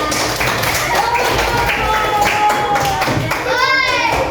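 Children in a classroom clap for a group coming forward to present, with scattered taps and handclaps mixed with kids' chatter and a few thumps.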